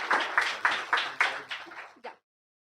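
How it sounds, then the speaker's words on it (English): Audience applause for a speaker at a UPSC IAS preparation seminar, a short round of about eight distinct claps in a fading rhythm that ends abruptly, close and dry. "let's give a warm round of applause for Dr. Jha"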